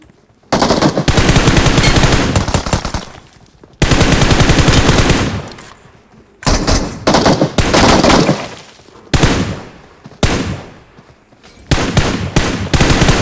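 Video game machine gun fire comes in loud, rapid bursts: two long sustained volleys, then several shorter stuttering bursts separated by brief pauses.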